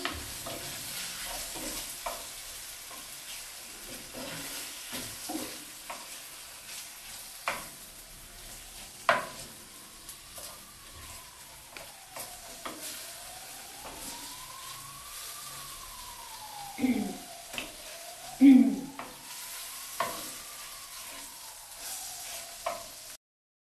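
A spoon stirs turkey frying in a pan with beer sauce, scraping in a steady rhythm under a soft sizzle. Occasional louder knocks of the utensil sound against the pan, while a siren wails faintly in the distance.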